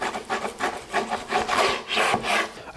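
A knife saws back and forth through the point end of a pellet-smoked brisket, making a rhythmic rasping rub of repeated strokes, close and clear with no talk.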